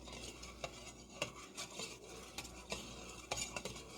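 Salted salmon roe being stirred in a bowl, with repeated soft clinks of a utensil against the dish over a wet, grainy churning, close and fairly quiet, no voices.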